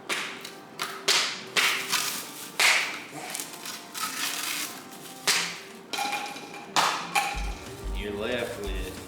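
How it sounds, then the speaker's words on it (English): Masking tape peeled in short, sharp tearing strips off a painted teal decoy being turned into a bufflehead, about a dozen quick rips in an irregular rhythm, close and fairly loud, with a voice talking over parts of it. "You just start taking the tape off that you masked off"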